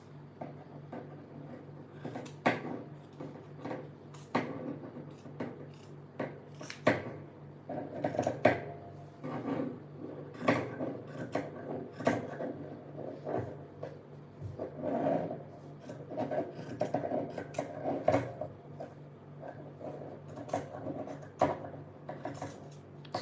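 Scissors cutting an old cotton T-shirt into strips for yarn, heard as a steady run of close, soft snipping and rustling fabric crunches repeating irregularly over a low room hum, with no talking.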